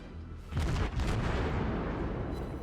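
Naval gunfire from a Königsberg cruiser in World of Warships, a heavy booming salvo that erupts after a quiet half second and rumbles on loud and sustained with a second blast layered in.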